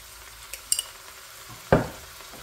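Mincemeat hits a hot pan with a sudden sharp sizzle that quickly fades, preceded by a couple of light clinks of a utensil against cookware in a quiet kitchen.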